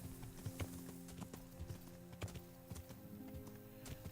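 A horse gallops in the medieval video game Kingdom Come: Deliverance, its hooves pounding in a quick, uneven rhythm that sounds close and steady throughout.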